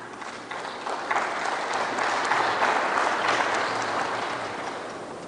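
An audience at the 2020 Philippine State of the Nation Address bursts into sustained, dense clapping in a large hall, rising quickly, holding steady for several seconds and tapering slightly at the end.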